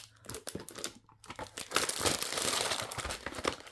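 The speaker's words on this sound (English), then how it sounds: "Today, I want to focus on cutting down the signatures." Paper signatures for a junk journal are cut down, with crisp crinkling, rustling and snipping of sheets in irregular bursts that grow busier and denser toward the end, close and fairly quiet.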